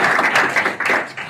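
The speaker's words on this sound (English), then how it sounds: "So everybody give yourself a round of applause here for coming out today." An audience at a Bitcoin gathering claps briefly, a short burst of close, uneven hand claps lasting just over a second.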